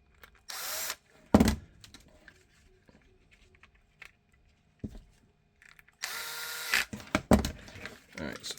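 Power drill driving screws into a homemade shoulder holster for a 1911 pistol and two magazines, two short whirring bursts near the start and a longer one later, with clicks and handling noise in between.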